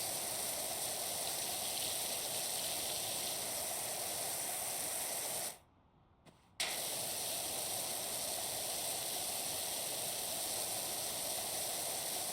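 A pressure washer in the video game PowerWash Simulator sprays with a steady, faint hiss that cuts out for a brief moment and then resumes, with no talk.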